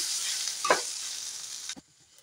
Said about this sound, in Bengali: গাওয়া ঘি 1 চামচ দিয়ে এবার নাড়াচাড়া করে নাবিয়ে নেব